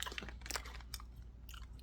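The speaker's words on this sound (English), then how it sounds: "They have that stale crunch, but they're not stale." Someone chews crunchy spicy Turkish crackers close to the microphone, a quiet string of dry, brittle crunches and bites in an irregular rhythm with no talking.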